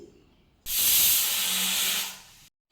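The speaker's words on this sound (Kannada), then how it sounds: "ನಾನಿವಾಗ ಹುರಿದಾಲನ್ನ ಒಂದು ಕುಕ್ಕರಲ್ಲಿ ಹಾಕ್ಕೊಂಡು ನೀಟಾಗಿ ಚೆನ್ನಾಗಿ ತೊಳ್ಕೊಂಡು 1 ವಿಷಲ್ ಕೂಗಿಸ್ಕೊತಾ ಇದ್ದೀನಿ" A pressure cooker holding washed roasted dal vents a loud, steady hiss of steam that starts abruptly, holds for about two seconds and cuts off sharply, with no talk over it.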